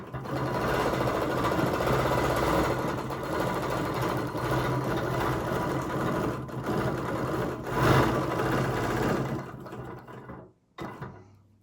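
A quilting sewing machine fitted with a ruler foot stitches in a steady, fast mechanical whirr, with small shifts in pace, then stops near the end with a brief final burst.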